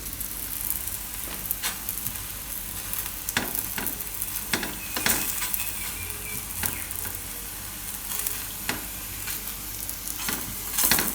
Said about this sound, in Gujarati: તેલ ઉડે એટલે બે બાજુ શેકી લઉં